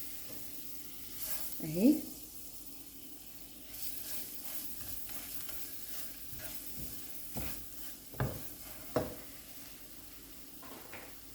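Butter sizzling in a pan during the making of chicken piccata in cream sauce, with a soft fry under intermittent spoon scrapes and a few sharp clinks against the pan; a voice speaks briefly near the start.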